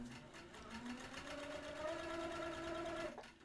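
A sewing machine stitches an infinity-pattern quilting stitch, running steadily with a rapid mechanical whir and a smooth rising motor tone, close and quiet, before slowing to a stop at the end.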